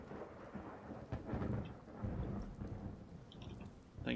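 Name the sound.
rain and thunder in the video game Skyrim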